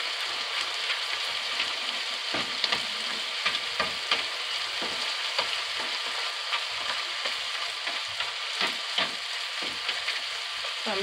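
Lean ground beef browning in a pan, an even, close crackling sizzle with scattered scraping stirs and small ticks of the utensil.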